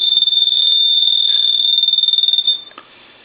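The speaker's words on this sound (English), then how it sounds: "It sounds more like a chirp, which is basically a piezo buzzer." A Gulf gas pump telephone's ringer gives a steady, shrill piezo-buzzer chirp that pulses rapidly for about two and a half seconds, then cuts off with a brief faint blip after.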